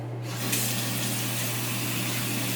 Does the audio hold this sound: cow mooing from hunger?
no